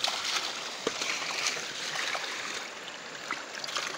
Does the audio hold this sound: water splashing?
yes